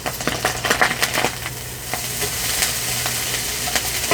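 Corned beef frying in a hot pan on a Gas One portable gas stove, a close sizzle broken by sharp scraping and stirring clicks as it is turned, with no talk.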